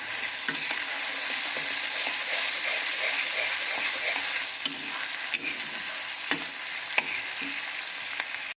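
Onion paste masala fries in a pan for a prawn curry, a dense, even sizzle up close with soft bubbling and occasional scraping clicks from stirring.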